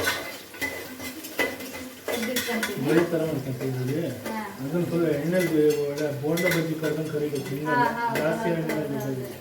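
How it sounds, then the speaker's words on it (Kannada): Onions frying in oil in a pan, with clinking utensils and stirring over a soft sizzle, set against a continuous tonal, melodic background. "ಇವಾಗ ಈರುಳ್ಳಿನ ಫ್ರೈ ಮಾಡಿ ಒಂದು ಸ್ವಲ್ಪ ಟೇಸ್ಟ್ಗೆ ತೆಗೆದಿಟ್ಕೊತೀನಿ"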